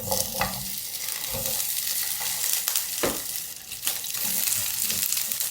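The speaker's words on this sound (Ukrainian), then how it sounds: "Спочатку закидаю сало." Steady crackling sizzle of pork fat frying in a pan, with occasional sharper pops and scraping stirs, close and continuous throughout.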